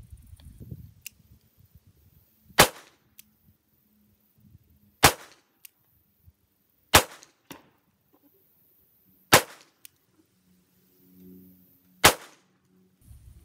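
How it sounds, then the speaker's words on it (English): Five sharp single-action gunshots at a target, evenly spaced a couple of seconds apart, each a loud crisp crack against near silence with faint handling noise between them. "we're going to do 5 shots, single action, at the number 7 at the top there"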